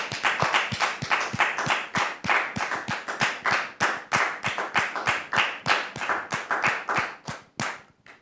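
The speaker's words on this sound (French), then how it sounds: "sur vos applaudissements, très cher public." A theatre audience at a live stage show applauds a performer onto the stage, a loud, dense round of clapping that rolls steadily for several seconds before thinning out near the end.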